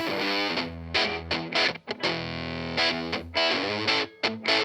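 An electric guitar played through a warm, gritty tweed Princeton amp, with chords and single notes ringing out, sustaining, and breaking into slightly distorted crunch.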